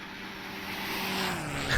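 A TBM 900 turboprop's PT6 engine in a flight simulator gives a steady, loud whine and rumble with a faint tonal hum, running alone with no talk.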